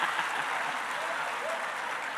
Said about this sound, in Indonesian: Tepuk tangan setan.